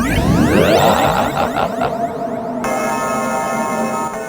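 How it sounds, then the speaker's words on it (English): A bell's final ring in the video game Ys Book 1 and 2 on TurboGrafx-CD, a loud sustained metallic tone with swirling overtones that shifts into a steady ringing hum. "enjoy the sweet sound of the bell's last ring"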